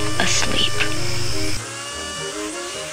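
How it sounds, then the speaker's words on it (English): Power tool whines close up while removing a ground rivet from a 1946 Philco Model 46-1203 radio chassis, a loud steady high-pitched drilling tone that drops to a lower whir halfway through. "Let's try to take off this ground rivet first"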